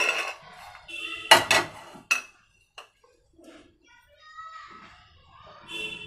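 Fried ragi pieces are moved from a pan onto another plate, giving a quick cluster of sharp metal clinks and scrapes. Quieter clatter follows, with voices talking and a voice in the background.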